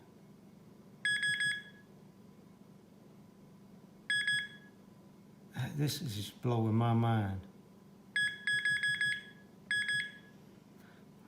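A metal detector pinpointer, Nokta Pointer or Garrett Pro Pointer AT, sounds short clustered bursts of high electronic beeps over a gold ring and coins, several separate groups, with someone speaking briefly between them.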